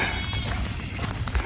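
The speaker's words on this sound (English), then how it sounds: "There are goats over there." Goats bleat nearby in a rural village on a rainy evening, a few short cries over a damp, muddy outdoor background.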